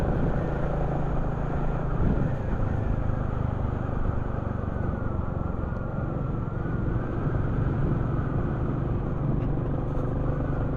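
Royal Enfield Classic 350 motorcycle cruising in top gear, its steady engine drone and road rumble continuous and close throughout, with wind noise and no speech.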